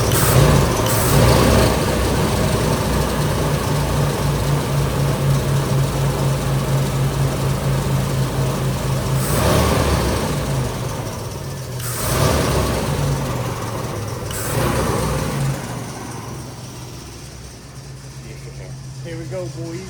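A Chevy Blazer running after a fuel pump replacement, a steady mid-pitched idle that holds throughout, close and loud, with a few brief surges and people talking over it.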